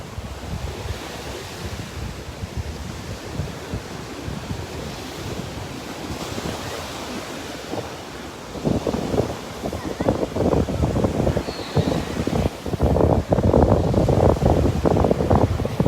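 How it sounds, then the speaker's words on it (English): Ocean surf and gusting wind at a North Naples, Florida beach on a morning walk, a constant rushing roar with wind buffeting the microphone, waves growing louder and heavier toward the end. "The wind and the waves, extra serotonin in the air"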